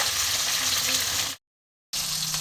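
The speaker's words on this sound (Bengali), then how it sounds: "শিমটা আমি ছেড়ে দিয়েছি, শিমটা ভাজা হচ্ছে।" Flat beans (shim) fry in a pan with a steady, close crackling sizzle, briefly cut to total silence midway before the sizzling resumes.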